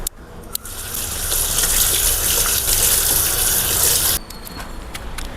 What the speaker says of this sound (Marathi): कोथिंबीर स्वच्छ धुवून घ्यायची.